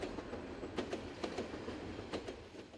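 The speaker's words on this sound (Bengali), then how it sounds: "ট্রেন আইতেছে" A train approaching on a railway, with faint rhythmic clickety-clack of wheels over rail joints and a low rumble, quiet and distant-sounding, no voices.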